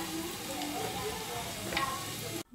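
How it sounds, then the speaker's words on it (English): Puff puff dough balls fry in hot oil, giving a steady, fairly faint sizzle with soft bubbling that runs throughout and cuts off abruptly at the end. "We are still here frying our puff puff."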